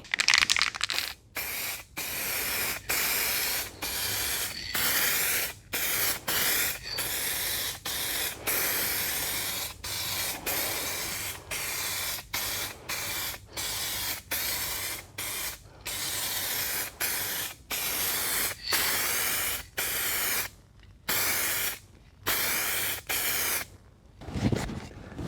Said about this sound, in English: So first I'm just going to spray the undercoat and just brush in this little area here.